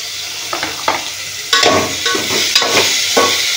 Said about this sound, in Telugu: కాకరకాయలు వేసుకొని మంచిగా కలుపుకుందాము.